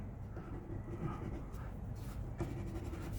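A pen scratches steadily on a paper card for a few seconds, soft and close, with a brief tap near the end and no talking.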